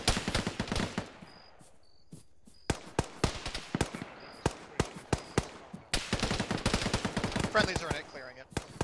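Sustained gunfire in a military video game: rapid machine-gun bursts and single sharp shots crack repeatedly, close and loud, with brief lulls between volleys.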